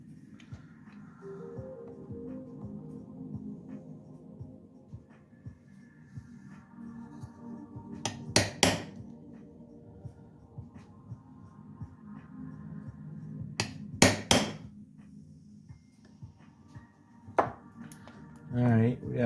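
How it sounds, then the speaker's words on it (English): Hammer blows on a small chisel punching timing reference marks on a 1986 Kawasaki KX 250 motorcycle, heard as two sharp double-struck metallic taps in the middle and a third near the end, over low background hum. "I'm just going to take a small chisel and punch some reference marks there."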